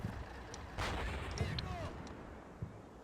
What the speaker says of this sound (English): That was an explosion there.